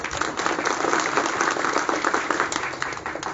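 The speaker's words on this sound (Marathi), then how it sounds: "सगळ्यांसाठी एकदा तुम्हीच टाळ्या वाजवा." Audience applause at a Tipu Sultan Jayanti gathering in Phulambri, a dense steady wash of many hands clapping at once, loud and sustained throughout without any speech.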